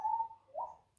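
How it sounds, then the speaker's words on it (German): A single bird call, a short two-part cooing note with a slight upward lift in the second part, faint and alone against quiet background. "Vogel!"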